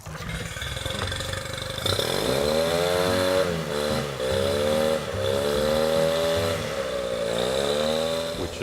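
A boat engine runs close by, warming up, its pitch rising and dipping in several slow surges, with a rough clattering edge and no talk.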